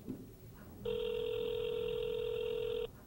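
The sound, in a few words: outgoing telephone call ringing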